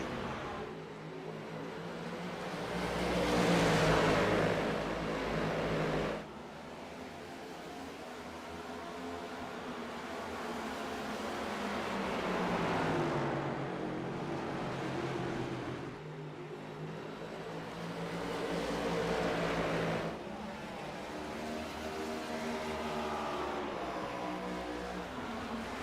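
Stock cars racing at Loudon, New Hampshire, roar past in sustained waves of engine noise, swelling loud and fading as two cars battle closely over about half a minute, with no talk.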